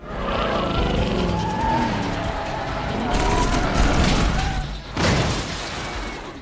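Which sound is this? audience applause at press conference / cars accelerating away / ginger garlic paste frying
cars accelerating away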